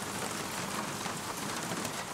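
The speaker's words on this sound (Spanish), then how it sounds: "Dicen que la lluvia arrulla," Steady rain falls continuously in Colombia, a dense, even hiss of drops on surfaces that holds at a constant level throughout, with no voices.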